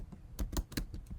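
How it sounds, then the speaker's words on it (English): A run of about half a dozen crisp computer-keyboard keystrokes, close and uneven, as a Terraform command is typed into a terminal. "I'm just going to type in Terraform"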